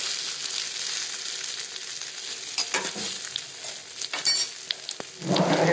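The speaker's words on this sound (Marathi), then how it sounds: "तव्यावर फोडणी टाकली. तवा लोखंडाचा तवा आहे माझा" Tempering sizzles and crackles on an iron tawa with stuffed okra, a steady close frying hiss broken by sharper spatters and stirring scrapes, swelling louder near the end.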